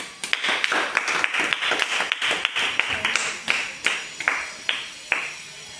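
Children in a school class clap together, a run of sharp close claps in an uneven rhythm that fades toward the end, with no talking over them.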